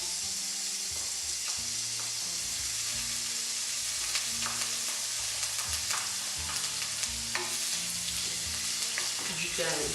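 Onion, garlic and ginger sizzle steadily in a hot pan for a Mauritian curry, a loud continuous fry with occasional stirring scrapes and no talking.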